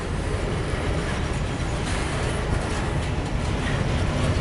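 A CSX empty grain train rolls past on the main line, a steady broadband rumble and rattle of freight cars heard from trackside at moderate distance, continuous without voices.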